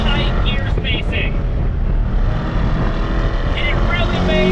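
A 2021 Chevrolet Corvette C8 Convertible engine with a dual-clutch gearbox drones loudly and steadily throughout, close and continuous beneath a voice talking over it.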